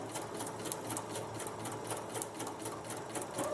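A sewing machine runs a steady, rapid stitch along the line of a paper-pieced seam for a log cabin heart quilt block, quiet and continuous throughout.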